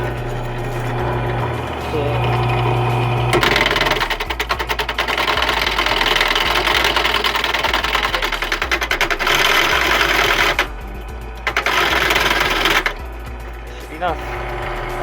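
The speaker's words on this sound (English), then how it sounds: "I'm just machining those away for this" Metal part being cut on a machining setup, a steady grinding, whirring cut running for several seconds with two brief pauses, near and loud, with a low motor hum underneath.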